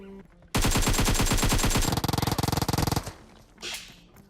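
Rapid automatic gunfire from a PUBG Mobile battle, a loud sustained burst of shots followed by a faster clattering volley, then a brief softer sound as the firing stops.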